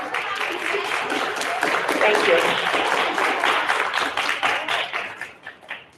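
An audience claps for a speaker at a sixth grade continuation ceremony, a dense, steady patter of many hands that thins out and fades near the end, while a voice speaks over it.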